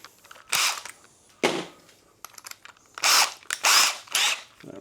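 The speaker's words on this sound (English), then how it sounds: "just got to drill some holes now" A power drill bores holes into a wall in several separate bursts, some short and some longer, close by, with brief pauses and small handling noises between them and no talking.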